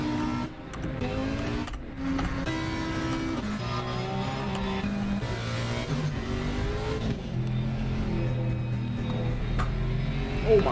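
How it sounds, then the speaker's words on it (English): A race car in Assetto Corsa Competizione at Paul Ricard swings from low revs to screaming high revs and back, engine tone rising and falling through gear changes, steady and fairly loud throughout. "His engine goes from low revs to massive high revs"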